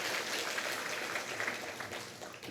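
Church congregation applauding during a Sunday morning worship service, a steady wash of many hands clapping at moderate, fairly distant level for a couple of seconds, with no voices standing out.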